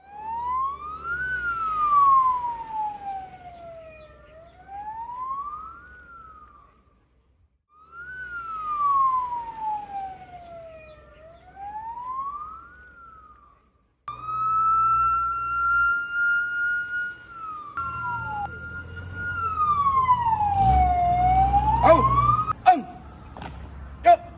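Fire engine siren during an emergency response drill at a temple, a loud wailing rise-and-fall tone repeating in several cycles with brief gaps, shifting to a steadier yelp near the end with some clanking.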